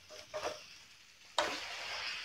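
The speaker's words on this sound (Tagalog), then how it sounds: "Igigisa muna natin," Chicken sautés in a pan with softened tomatoes, with two brief stirring sizzles followed by a louder, sustained sizzle close by.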